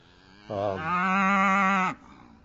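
A six-year-old American Milking Devon cow gives one long, loud, clear moo that rises in pitch and holds before stopping abruptly.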